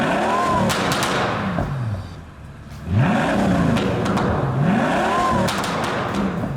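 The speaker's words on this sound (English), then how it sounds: "here's another quick clip for you just to hear the revs off this thing." A sports car engine revs hard several times, rising and falling pitch sweeps, loud and close, with brief dips between revs.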